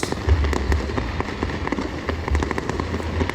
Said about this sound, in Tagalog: ito na yung fireworks ng pagtatapos